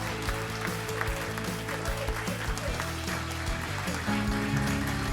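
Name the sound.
audience applause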